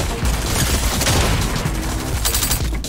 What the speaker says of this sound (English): somebody's getting sniped